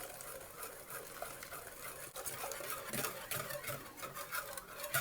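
Melted butter and milk are whisked into eggs in a bowl for pancakes, with a steady scraping, clinking stir that speeds up in rapid, close strokes.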